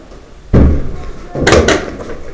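A door bursts open during a close-quarters paintball game, with a heavy thump followed a second later by a second burst of banging and clatter, close and loud over a noisy background.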